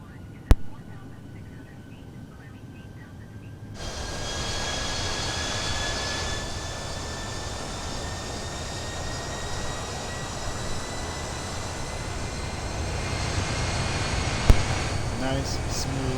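Jet engines of an Airbus A320 in Microsoft Flight Simulator on an Air Canada flight from Calgary to Vancouver: a quiet cabin drone that swells into a loud, steady roar with a rising whine as thrust increases, sustained throughout.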